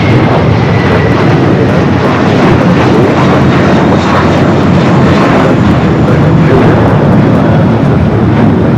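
An American Airlines airliner in a special flagship livery arriving at Los Angeles LAX roars loudly and steadily, a close, dense jet-engine rush filling the whole stretch without any voices.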